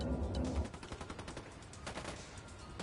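Rapid bursts of gunfire from a mounted weapon in a video game, a dense rattling volley at first followed by quieter scattered shots and echoing impacts.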